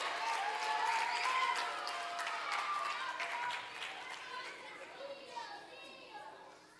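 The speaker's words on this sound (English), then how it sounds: "Could the students please stand and give Teacher Holness a big rousing round of applause" Students at a primary school graduation ceremony clap for their teacher, a steady crowd of applause mixed with children's voices and chatter that gradually thins toward the end.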